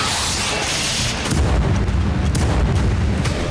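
Loud booming artillery fire and explosions from the Russia-Ukraine war, a dense rumbling barrage with a heavier burst of blasts kicking in partway through and continuing without letup.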